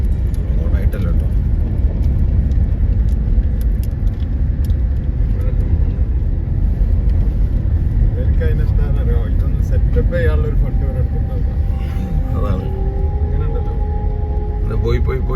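A car drives off-road along a rough dirt track near Salalah, Oman, its engine a steady, close drone with road rumble beneath continuous talking inside the vehicle.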